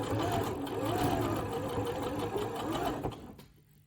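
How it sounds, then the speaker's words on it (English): A sewing machine stitches a straight seam during a beginner sewing lesson. It makes a steady, close, rapid mechanical whir for about three seconds, then stops near the end. "Sewing a straight seam."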